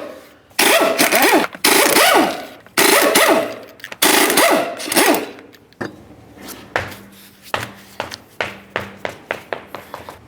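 Impact wrench spinning off 19mm lug nuts from a 2006-2010 Ford Explorer front wheel in a garage: several loud whirring bursts, then a run of short rattling taps as the nuts come loose, no talking.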